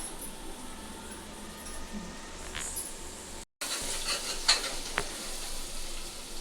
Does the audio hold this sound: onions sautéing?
yes